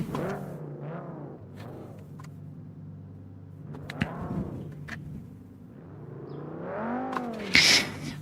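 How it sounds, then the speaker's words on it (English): Formula 3 race cars at speed during a qualifying session, engines rising and falling in pitch as several pass by in waves, moderately distant, with a brief louder burst near the end. "But we can still hear the cars."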